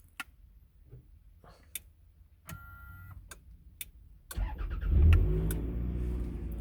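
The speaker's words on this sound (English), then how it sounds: "My foot's on the brake and it starts with the button." A 2003 Toyota Estima started by push button, with a few dash ticks and chimes followed by the starter cranking and the engine catching, revving briefly and settling into a close, steady idle.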